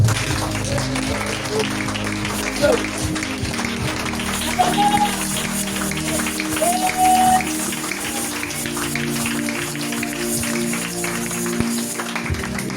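A church congregation claps in praise, with steady dense applause running throughout and voices and some singing mixed in over the crowd.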